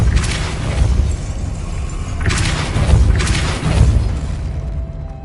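Depulso spell cast in Hogwarts Legacy, heard as a few heavy booming thuds with bursts of blast-like noise, repeated roughly every second or two over a steady game background.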